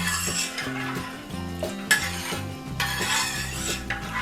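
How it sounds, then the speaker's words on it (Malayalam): A spoon works through paalada payasam, rice flakes in milk, in a pan over medium flame, scraping and clinking against the metal in quick repeated strokes over a faint bubbling sizzle. "ഇനി നമുക്ക് മീഡിയം ഫ്ലെയിമിൽ തന്നെ ഇട്ട് ഇതൊന്ന് ഇളക്കി കൊടുക്കാം"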